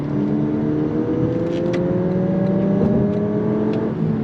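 A 2022 Lexus UX 250h hybrid accelerates under throttle, a steady engine drone rising in pitch with a continuous whir, heard from inside the cabin without talk.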